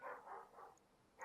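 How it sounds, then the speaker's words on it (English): A big dog barks somewhere in the background, giving a few loud, broad barks in a quick run, a pause, then another, with no talk over them. "Oop, there goes my dog. She's doing a big old bark."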